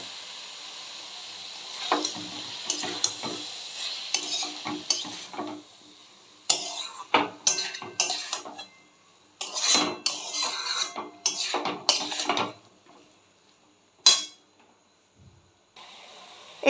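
Boiled banana flower is stir-fried in a pan with a little water, giving scattered clinks and scrapes of a utensil against the pan in uneven bursts, with soft sizzling between them and quiet gaps.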